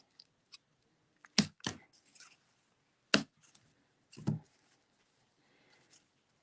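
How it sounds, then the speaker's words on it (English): Scissors trim ribbon ends on a stamped cactus notecard, giving a few sharp, close snips spaced apart against a quiet room. "So let's trim these off."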